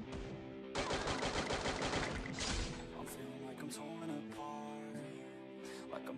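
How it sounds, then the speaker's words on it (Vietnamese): Gunfire coming from a mountain in a shooter video game: a rapid burst of automatic shots, loud and sustained for a couple of seconds, then sporadic cracks with mechanical clatter and tonal game sounds behind them. "Ở trên núi bắn nữa à."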